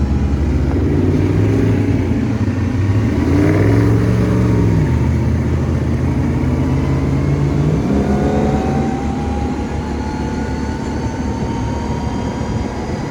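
A HEMI-powered Ram 1500 truck revs hard while drifting, its V8 rising and falling in loud, surging bursts that give way to a rough, continuing roar, with no speech.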